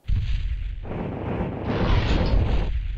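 A burning weapon blasts an Allosaurus in the PS1 game Dino Crisis 2, a loud continuous roaring whoosh lasting about three seconds that swells and thickens toward the end, with no talking.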